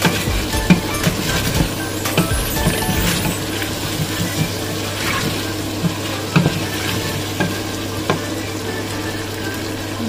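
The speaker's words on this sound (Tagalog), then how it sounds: "Igisa ko na yung sausage mga kabarks." Sausage sautés in a pan, giving a steady close sizzle broken by scattered clicks and scrapes of stirring.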